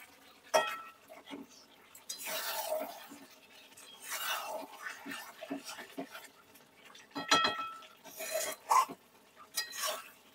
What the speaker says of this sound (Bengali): মাঝে মধ্যে ঢাকনা খুলে একটু নাড়িয়ে নিচ্ছি।